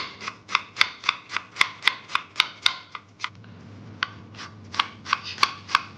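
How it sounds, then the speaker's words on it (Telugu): Knife chopping an onion on a cutting board in a home kitchen, preparing chicken curry: a fast, steady run of crisp, close knocks, a short pause midway, then more quick cuts. No talking. "ఆనియన్ ఇలా కట్ చేసుకోవాలండి."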